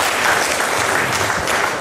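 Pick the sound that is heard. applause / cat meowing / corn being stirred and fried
applause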